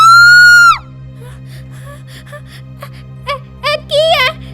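In a Punjabi horror cartoon, a woman lets out a loud, sustained, high-pitched scream of fright at the start, followed by quieter vocal gasps and wavering cries over a low background hum.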